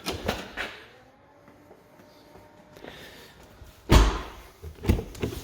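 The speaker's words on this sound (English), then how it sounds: "the boot will automatically open" Tailgate of a 2017 BMW 530d M Sport Touring xDrive (G31) swinging open automatically, a soft motorised whir then a solid thunk near 4 seconds, followed by a couple of lighter knocks, fairly close with quiet surroundings.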